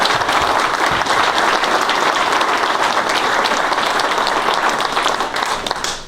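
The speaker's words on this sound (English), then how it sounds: "let's just give a round of applause for our military spouses" Sustained applause from an audience honoring military spouses, loud and steady for several seconds before easing slightly at the end, with a few voices faintly mixed into the clapping.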